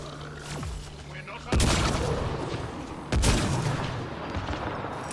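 Gunfire in the Mass Effect: Andromeda video game: two loud, sharp shot blasts a second and a half apart, each ringing out with a booming tail over a low background of game sound.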